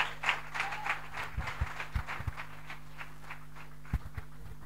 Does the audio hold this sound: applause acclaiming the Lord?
yes